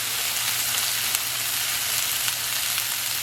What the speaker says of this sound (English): I added some butter to a skillet and I chopped up both those onions. We're going to let these start to caramelize.